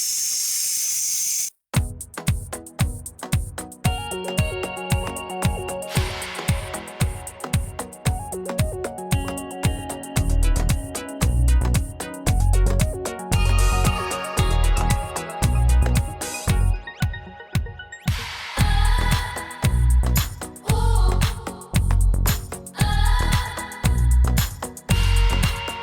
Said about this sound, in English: I'm going to turn this to venting